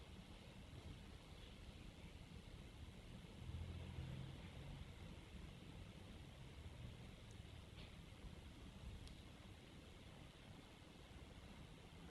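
Distant town traffic makes a faint, steady low rumble that carries on for the whole stretch, with a slight swell partway through and no voices.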